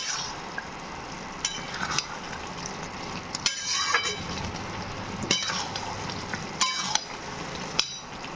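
Soya chilli gravy bubbling in a pan while dissolved cornflour is stirred in, with a continuous sizzle broken by repeated sharp clinks and scrapes of a spoon against the pot, close and fairly loud.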